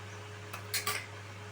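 A metal lid goes onto a pot of egg curry: a few quick clinks and clanks, close and fairly quiet, over a steady low background hum.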